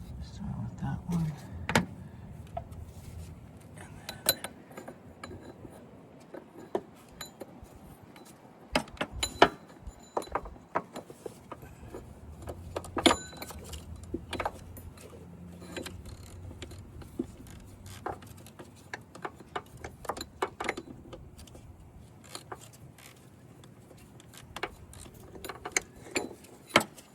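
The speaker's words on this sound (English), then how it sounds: "now we're just gonna take those two 12 millimeter bolts out all the way" Twelve millimetre bolts come out of a power steering pump on a 1999-2004 Honda Odyssey, with scattered metallic clicks, taps and ratcheting clatter spread irregularly across a quiet workshop background.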